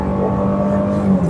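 From inside the cabin, the 2-liter engine of a 2023 Range Rover Velar gives a steady, moderate hum as it pulls along.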